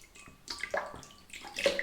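Hot water from a tap splashes in short bursts into a basin while preparing for a traditional wet shave, close by and fairly clear, with a few separate gushes and drips and no talking.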